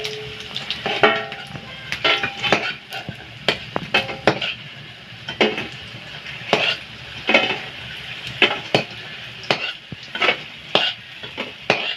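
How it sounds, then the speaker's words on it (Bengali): Pakora fries in hot oil with a steady sizzle while a spoon or spatula repeatedly clatters and scrapes against the pan in irregular, loud strikes. No one speaks. "এবারে লাল হয়ে ভাজছে"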